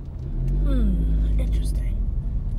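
A car driving on a road, heard from inside the cabin as a steady low engine rumble, with a voice talking over it.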